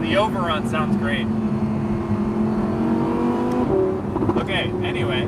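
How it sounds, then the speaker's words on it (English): Exhaust overrun from a 2020 Audi R8 V10 Performance Spyder: a loud V10 drone whose pitch climbs and falls through gear changes, with crackling bursts near the end and steady wind noise. "Oh, the overrun sounds great."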